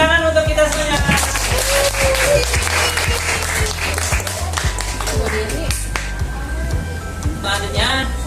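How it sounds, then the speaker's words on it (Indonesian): A primary school classroom claps together in a quick, regular rhythm, the sharp claps sounding close and loud, with voices and a tuneful chant carried over the clapping throughout. "Tepuk tangan untuk kita semuanya."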